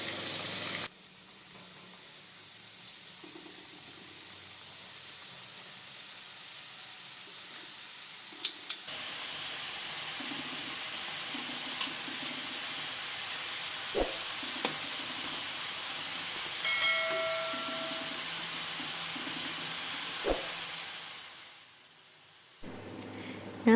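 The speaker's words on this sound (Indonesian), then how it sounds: "Oke, kalau udah panas, langsung kita goreng kue bawangnya." Onion sticks (kue bawang) dropped into hot cooking oil set off a steady, close sizzling hiss that runs for about twenty seconds with small crackles and a few stirring knocks, then fades at the end.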